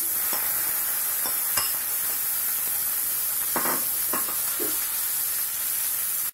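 Coarsely ground peas sizzle in a pan of fried cumin over a low flame for matar paratha. The hiss is steady and close, with a few soft stirring scrapes.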